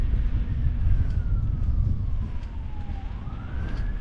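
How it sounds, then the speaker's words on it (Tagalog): An ambulance siren wails steadily in the distance over rumbling traffic, its tone gliding slowly down then sweeping back up. "Yo, may ambulansya pa."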